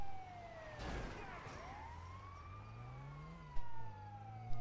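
Police sirens wail and sweep in pitch in the GTA V video game while the player's car engine drones underneath, with a brief crash early on and a couple of short bumps near the end.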